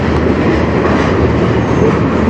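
A CN freight train rolls past at close range on the Strathroy Subdivision, a loud continuous rumble with rhythmic wheel clatter throughout.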